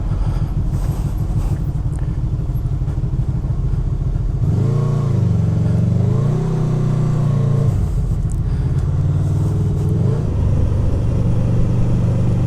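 Honda VFR motorcycle ridden off-road, its engine rumbling close and loud, then revving up and pulling away in rising surges with gear changes.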